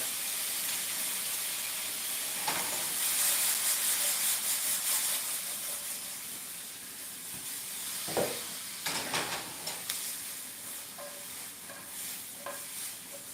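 Soy sauce and rice vinegar sizzling in a hot pan while salmon, eggs and potatoes cook, a soft steady hiss broken by several stirring scrapes and bursts of sizzle.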